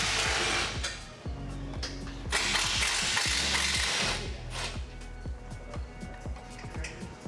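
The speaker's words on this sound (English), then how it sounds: "grab your 13mm socket to remove the brake line bracket from the frame" A 13mm socket on a ratchet removes brake line bracket bolts from a Ford F250 frame, with loud, rapid clicking bursts that stop and restart several times close up and no talk.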